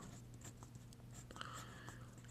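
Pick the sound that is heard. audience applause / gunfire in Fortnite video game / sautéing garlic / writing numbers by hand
writing numbers by hand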